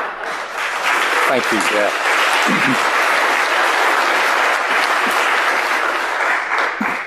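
Sustained, loud audience applause at a security conference talk, with even clapping filling the room for several seconds while a speaker briefly talks over it.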